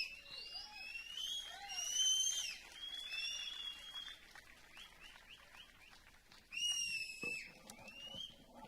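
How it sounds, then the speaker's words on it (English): Loud whistles from a crowd at an evening plenary session and cultural programme, several shrill wavering whistles overlapping in bursts, the strongest near the start and again after a lull, over faint background murmur. "Can we see who can give the loudest whistle for them?"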